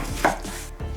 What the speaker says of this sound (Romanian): la fel procedez până când voi termina toate lămâile de tăiat și curățat de sâmburi